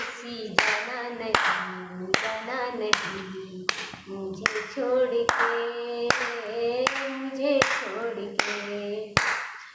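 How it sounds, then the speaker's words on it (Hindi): Hands clap a steady rhythm, about a dozen sharp claps spaced roughly evenly, played under a singing voice that holds sustained notes throughout. "ताली बज रही है"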